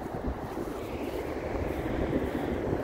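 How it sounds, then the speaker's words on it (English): Steady roaring coastal wind by a choppy sea buffets the microphone, a continuous low rumble with gusts, loud throughout and no voices. "it's amazing how windy it is"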